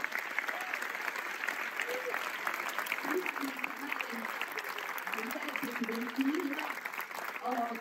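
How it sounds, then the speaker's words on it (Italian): An audience applauds the Italian film Vittoria at its presentation at the 81st Venice Biennale Cinema, with dense continuous clapping and scattered voices and calls mixed in. "Tutti questi applausi sono per Vittoria."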